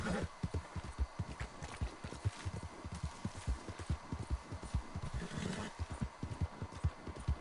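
A horse in Red Dead Online gallops with a fast, steady clip-clop of hooves, close and continuous throughout the stretch.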